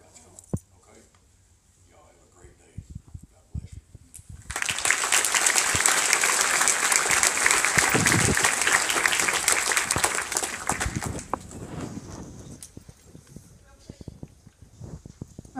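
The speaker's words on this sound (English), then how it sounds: "let's go ahead and give them another round of applause" At a high school DWI awareness drill, an audience breaks into loud, dense applause after a quiet start. The applause lasts several seconds and then fades into scattered sounds.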